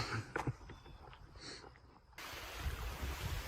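Small waves lap at the water's edge in the early morning, a soft, faint wash mixed with light wind noise, with a brief clatter near the start and steadier rushing in the final seconds.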